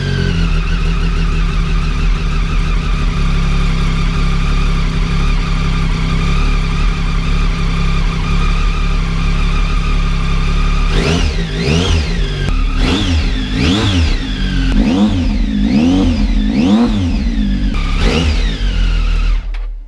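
A Triumph Tiger 800 motorcycle engine idles loud and steady up close after a first start following a service, then revs repeatedly in sharp rising and falling bursts during the second half, with no talk.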